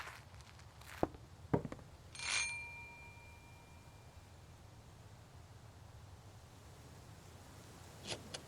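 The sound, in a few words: doorbell ringing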